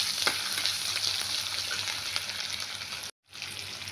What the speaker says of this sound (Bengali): 1 চামচ নুন দিয়ে ভালো করে নাড়বো এটাকে